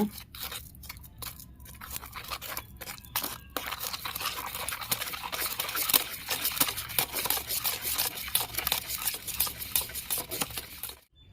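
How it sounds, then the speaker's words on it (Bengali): Spiced chhana for Bengali chanar kalia is worked by hand, with faint, steady squishing and crumbling close by that runs unbroken for several seconds before stopping. "সব দিয়ে আমি ভালো করে মেখে নেব"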